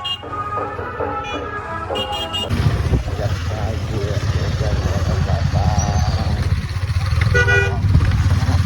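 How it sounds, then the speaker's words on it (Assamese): A motorcycle ridden along a road around Sivasagar toward Nazira sends up a loud, steady engine drone with wind rush. Short horn toots sound at the start and again near the end. "বাইক চলাই আছে"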